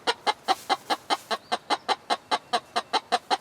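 A broody hen in a coop gives a rapid, evenly spaced run of loud clucks, about four a second and very close, with no pause or other sound between them.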